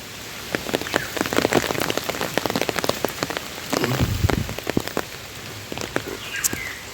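Steady rain falls on surfaces, producing dense, close pattering with many distinct drop impacts over a constant wash. It continues without pause, with no voices.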